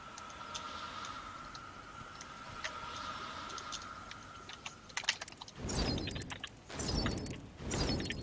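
Keys on a computer keyboard are tapped in quick, irregular clicks while Epistory is played, with a steady tone underneath, and then several louder swelling bursts of sound break in near the end.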